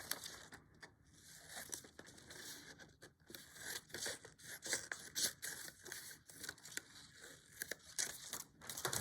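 Scissors cut fabric for a stitched cushion with a steady run of soft, crisp snips and papery crinkling, close but quiet and unbroken by talk.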